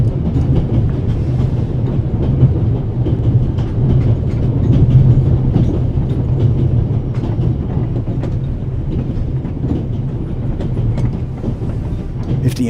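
A loud, continuous train rumble in the video game The Raven: Legacy of a Master Thief, with rhythmic clickety-clack of wheels on track, heavy and close, running steadily without voices.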